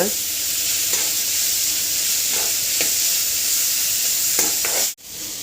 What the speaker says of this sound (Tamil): அதையும் மிக்ஸ் பண்ணிக்கோங்க நல்லா வதக்கிக்கோங்க